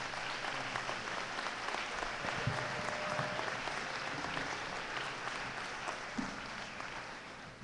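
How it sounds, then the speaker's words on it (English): Audience applauding at a commencement ceremony, a steady, even roar of many hands clapping from a large room that continues throughout without talk. "Round of applause."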